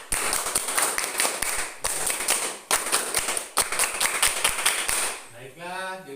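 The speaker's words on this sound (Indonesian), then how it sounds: "2 kali tepuk pramuka" A classroom of students performs the Indonesian scout clap (tepuk pramuka) twice: loud, tightly synchronized group clapping in rhythmic patterned bursts with brief pauses between sets, ending as a voice begins speaking.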